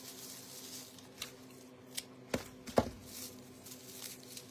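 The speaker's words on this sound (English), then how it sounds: "I'm cutting it with my good scissors." Scissors snip through raffia in a handful of quiet, close, crisp cuts spaced irregularly over a soft background hiss, with two sharper snips in the middle.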